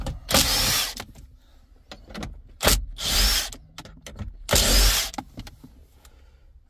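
A power tool unscrews interior trim screws in a Ford Focus MK4 Vignale, with three loud whirring bursts of a few seconds each, separated by brief clicks and handling noises, close up and with no talking.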